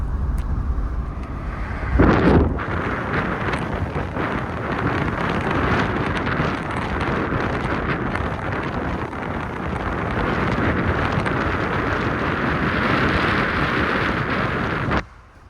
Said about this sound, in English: I'm gonna go through my sunroof. It's gonna be really windy